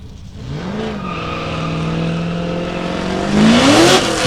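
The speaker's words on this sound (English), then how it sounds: "the test and tune boys behind us start to warm up those comp engines" Competition drift car engines rev and rise in pitch at Meremere Drift Park, New Zealand, loud and near, swelling toward a sharper whining surge at the end.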